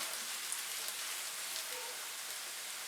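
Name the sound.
chopped carrots frying in a pan with onions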